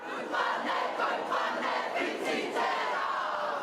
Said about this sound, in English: The protest cries of tens of thousands echoing through the capital.